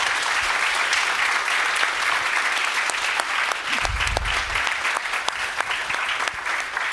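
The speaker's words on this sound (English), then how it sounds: "Let's give a round of applause to Jonathan Dodge Mayer" A room of attendees claps for a speaker at the close of a game audio and music production talk, sustained, evenly textured applause with scattered louder claps.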